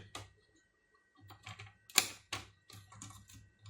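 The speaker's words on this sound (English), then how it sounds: "using some side snips" Worn, knackered side snips cut through wire leads on a guitar amp board, giving a series of sharp, close clicking snips spaced irregularly, some doubled, with no talk.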